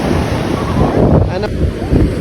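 Ocean surf rushes and rumbles continuously on a beach at Tirur, Malappuram, Kerala, with wind buffeting the microphone throughout.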